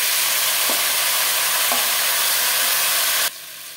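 Ground turmeric, cumin and red chili sizzle loudly in a pan just after ginger paste water is added, a dense steady frying hiss close up with a couple of faint utensil taps, cutting off abruptly near the end.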